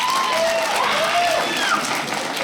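A comedy-club audience claps in a dense, steady burst that lasts the whole moment, with a thin whistle or squeal cutting through the crowd noise, fairly loud and close.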